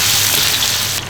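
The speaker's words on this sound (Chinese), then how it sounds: "油热后，先下姜蒜米，" Ginger and garlic dropped into hot oil in a wok, giving a loud, close, continuous sizzle that cuts off sharply just before the end.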